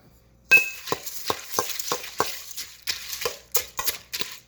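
Bran muffin batter with whole milk is stirred in a bowl, with a regular series of close scraping strokes and light clinks of a utensil against the container, each stroke distinct and fairly loud.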